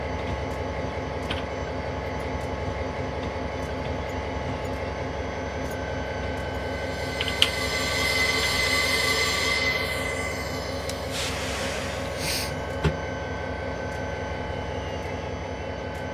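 An SD40-2 diesel locomotive in Train Simulator 2018 runs on New York New Haven track with a steady low engine drone. Faint clanks and squeals from the rails rise partway through.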